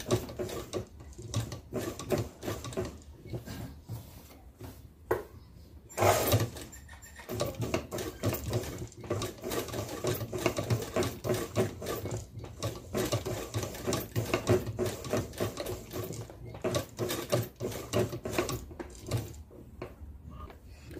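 A sewing machine runs steadily, stitching a zipper attachment with a continuous mechanical whir and rapid needle rhythm, close and moderately loud, with a brief pause and restart partway through.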